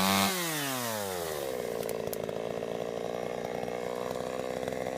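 A chainsaw making a felling cut in a tree, revving up from idle and then holding a steady, loud, close whine as the chain bites into the wood, with no talk.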